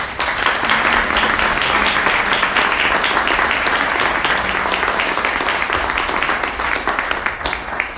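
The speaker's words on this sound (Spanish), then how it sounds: "Un aplauso para don Humberto, por favor." An audience at a lecture on the crisis of democracy gives the speaker, don Humberto, loud, dense, sustained applause that fills the whole stretch and fades slightly at the end.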